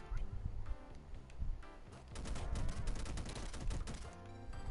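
A burst of rapid gunfire rattles off at moderate distance, volleys of shots overlapping with a low rumble and some mixed background sound.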